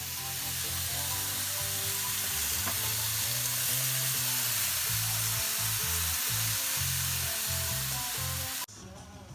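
Food sizzling in a frying pan while being stirred for pique a lo macho, a loud continuous hiss with repeated scraping stir strokes, ending abruptly near the close.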